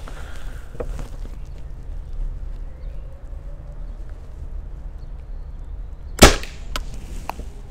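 A single sharp 7.62mm rifle shot fired at a squirrel outdoors, one loud crack rising above quiet ambient background, followed by faint small sounds.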